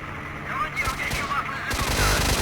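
Gunfire in S.T.A.L.K.E.R. Shadow of Chornobyl: two loud, close shots ring out about a second apart, each followed by a short rumbling tail.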